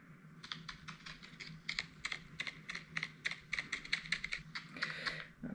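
Rapid, crisp tapping and clicking close to the microphone, an uneven flurry of small strikes over a faint steady hiss, with no voices.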